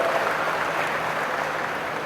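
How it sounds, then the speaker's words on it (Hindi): Steady, dense clapping from an audience at the MP RISE 2025 business conclave in Ratlam, filling the whole moment at an even level with no voices over it. "एक बार पूरे मंच का अपने आप का सबका अभिनंदन करते जोरदार ताली बजाकर।"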